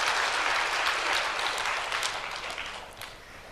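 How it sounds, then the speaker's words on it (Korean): A church congregation claps together in praise, a full, even roar of hands that starts strong and gradually thins and softens over a few seconds. "하나님께 영광의 박수로 드리겠습니다."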